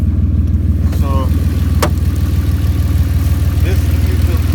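A 2001 Audi A4 Avant Quattro engine idles steadily up close with a loud, even low rumble throughout, with a couple of brief faint clicks and a short squeak over it and no voices.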